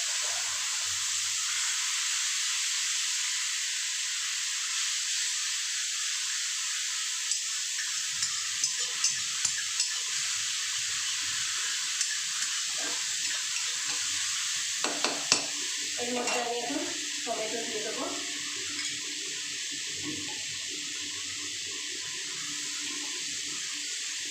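A fish curry sizzles in a pan after a turmeric and chili paste goes in with nigella seeds and slit green chilies, a steady bright hiss with sparse clinks and soft stirring scrapes near the end.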